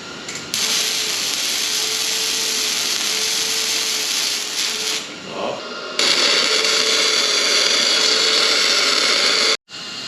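Metal welding while a water tank is being built: a steady, loud crackling hiss with a faint hum runs for several seconds, breaks briefly, then resumes brighter and harsher before cutting off near the end.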